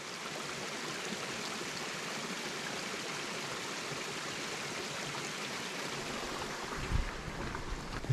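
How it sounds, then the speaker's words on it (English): A small waterfall on the Appalachian Trail rushes steadily and close by, with a constant broadband wash of falling water and a couple of brief louder splashes near the end. "Mini waterfall. It's so pretty to hear it,"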